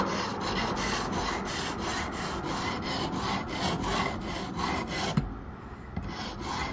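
Knife blade rubbed in repeated rhythmic strokes across a Ruixin Pro sharpener stone, a close rasping scrape with regular back-and-forth passes that stop near the end.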